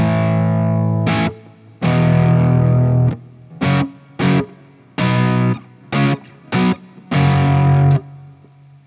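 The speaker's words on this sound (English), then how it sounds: "the amped roots, which is this high gain, which I have at like 0" Electric guitar through an Amped Roots high-gain amp set for a low-end crunch, played as distorted chords and short stabs with sustained ringing notes and abrupt mutes in between, loud and alone.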